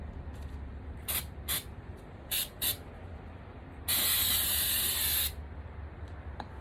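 Short hissing bursts from a spray paint can, two pairs of quick sprays followed by one longer continuous spray, close and fairly quiet.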